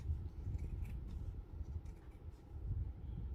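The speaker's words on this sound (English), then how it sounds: "You're going to cut out a little outside of the line" Scissors cutting fabric just outside a sewn line for a Christmas gnome hat, a steady low rustling crunch of blades through cloth, close and continuous, with no talk.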